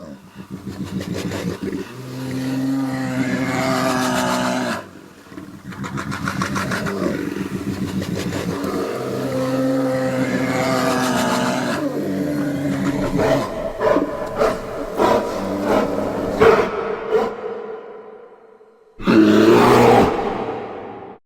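A grizzly bear's deep, rough growls rumble in long bursts with short pauses between them, loud and close, ending in a harsher, noisier roar.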